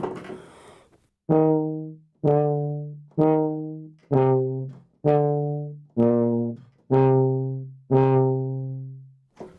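A solo tuba plays Berlioz's Dies Irae from Symphonie Fantastique: eight slow, separate, sustained low notes, each starting firmly and fading, loud and close with no talking.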